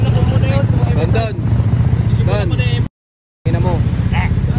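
A motorcycle engine runs with a steady low hum in a repair shop, mostly buried under loud nearby talking, with the sound cutting out completely for a moment before resuming.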